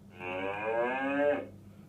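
A cow lets out one long, steady moo of over a second, clear and close, as a sound effect for a black and white toy cow in a children's animal-sounds lesson.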